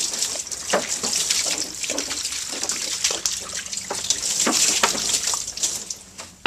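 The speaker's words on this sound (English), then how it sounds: "So now I'm just going to clean it off with some junk water and just regular tap water." Tap water running over a glass mirror blank during rinsing, a steady hissing splash with irregular spatters and drips as the water hits the glass, close and fairly loud.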